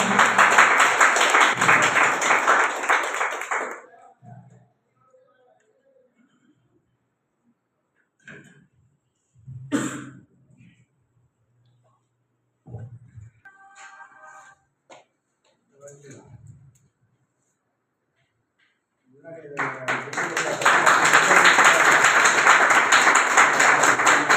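An audience at a large stage gathering in Gudalur gives loud, dense applause for several seconds. A quiet stretch follows with only scattered small noises, and then a second full burst of clapping closes the clip.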